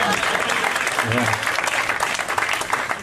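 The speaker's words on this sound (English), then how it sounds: "A little golf applause over there." Light, polite golf-style applause: a steady patter of clapping from a small group fills the clip, with voices talking faintly under it.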